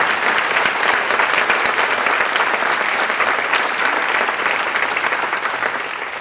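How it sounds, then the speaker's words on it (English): A school audience applauds student string groups with a loud, steady burst of clapping that fades slightly toward the end, with no talking over it. "Let's give them a great round of applause."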